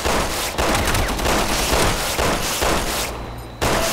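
Loud, dense gunfire from the survival-horror game Resident Evil 6, with shots packed into near-continuous volleys that run almost without a break for the whole stretch.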